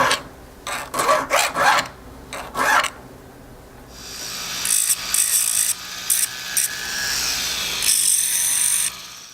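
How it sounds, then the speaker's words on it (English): A small sanding disc grinds on a metal angel wing earring piece in short rasping bursts, first a few separate strokes, then a longer stretch of higher, sustained abrasive whirring. "I'm going to take my sanding disc right down the middle of that thing"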